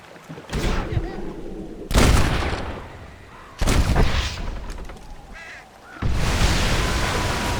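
Gunfire in the western video game Red Dead Redemption comes as four loud, sharp blasts spaced a second or two apart, each trailing into a rumbling echo.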